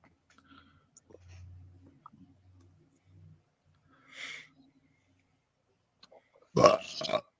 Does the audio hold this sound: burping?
yes